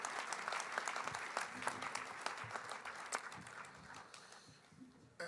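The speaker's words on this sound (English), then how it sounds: "Give these guys a round of applause." A banquet audience at a USAC Night of Champions awards dinner applauds steadily and loudly, the dense clapping holding for several seconds before tapering near the end.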